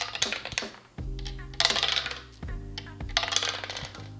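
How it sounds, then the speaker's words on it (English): Dice launched onto a Tumblin' Dice board game, clattering and skittering in quick bursts of sharp clicks and knocks, close and fairly loud, with several separate throws and no talking. "people are trying to launch the dice to get points and try to possibly get rid of the dice that are there"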